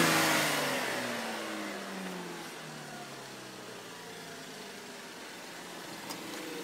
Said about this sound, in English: I'll just rev it a little bit like this